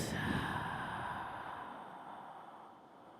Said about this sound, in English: Right, and breathing out.